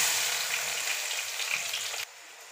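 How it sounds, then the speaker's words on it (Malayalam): Onions sizzle loudly in hot oil left over from frying chicken, a dense steady crackling close by that drops in level near the end. "ഇതിൽ സവാള ഒന്ന് ചിക്കൻ ഫ്രൈ ചെയ്തെടുത്ത എണ്ണയിലോട്ട് ഇട്ട് കൊടുക്കാം"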